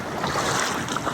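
Rough Atlantic Ocean water churns around a boat off the Darién coast, a dense steady wash of surging water mixed with wind noise, fairly close, with no talking.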